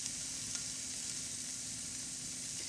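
BBQ chicken and zucchini quesadilla frying on a hot griddle, a steady close sizzle and crackle running alone without a break.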